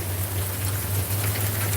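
Steady rain falls, a continuous close hiss with a low constant hum underneath and no breaks.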